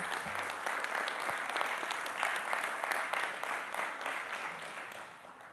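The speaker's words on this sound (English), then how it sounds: "I believe you need to give yourself a rousing round of applause." Audience clapping at an official results release ceremony in the Cayman Islands, a steady, full round of applause that holds for several seconds before tapering off slightly at the end.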